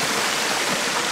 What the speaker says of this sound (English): the waterfall, which is a natural beautiful spring that comes from the ice of the mountains